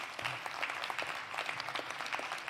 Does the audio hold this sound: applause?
yes